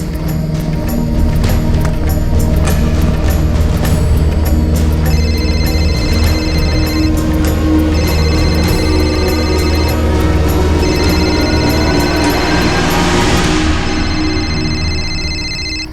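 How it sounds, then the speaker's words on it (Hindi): A telephone rings in repeated electronic bursts over a loud, steady engine-like hum, continuing throughout with no voices. "रूबी, रेबेका को फोन लगा।"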